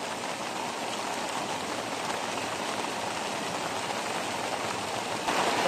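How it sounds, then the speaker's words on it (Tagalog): Heavy rain pours down steadily, a dense, loud hiss of water with no break, close and enveloping. "Abutan kami ng ulan. Lakas ng ulan."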